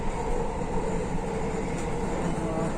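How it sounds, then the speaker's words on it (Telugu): A driverless Qatar underground metro train arrives with a steady, loud rolling rumble and hiss that fills the whole stretch, with no voices. "మెరుపులుగా ఇంకో ట్రైన్ వస్తుంది"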